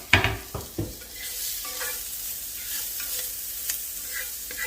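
A medium onion frying on low heat in a pan of cube steak drippings: a continuous gentle sizzle with a few louder stirring clatters near the start, and no talking.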